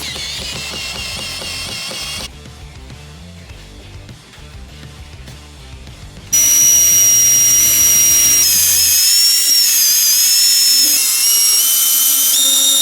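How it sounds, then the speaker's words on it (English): A power drill countersinks long screws into reclaimed timber door rails, with loud whining bursts that change pitch as the drill switches speed, and no voices. "I just opted to countersink some really long friggin' screws, 2 for each rail on either side"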